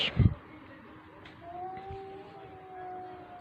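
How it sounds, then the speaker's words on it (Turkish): A drawn-out, wavering cat cry, faint and a little distant, follows a short thump at the start. The low yowl lingers for a couple of seconds. "O ne be? Kediymiş."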